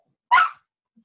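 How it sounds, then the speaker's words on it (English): A dog gives one short, sharp yelp close by, a single brief burst followed by quiet. "That's my dog yelping for God knows what reason."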